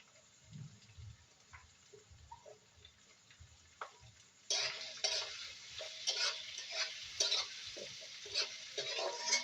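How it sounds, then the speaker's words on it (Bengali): Chopped onion hits a pan of oil for chicken curry, giving a quiet sizzle and clinking of a spoon stirring, which jumps to a louder, steady crackling frying halfway through. "এবার আমি দিয়ে দেবো পেঁয়াজ কুচিটা। এই পেঁয়াজ কুচিটাকে আমি দিয়ে দেবো।"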